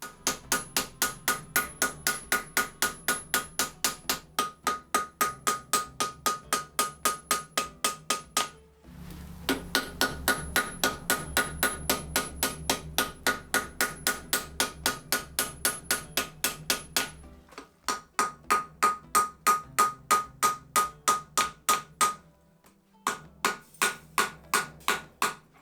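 Steady hammer blows forge-welding layered damascus steel for a herringbone-pattern scouting knife, a long regular run of sharp ringing metallic strikes, close and loud, with brief pauses between bursts and no talking.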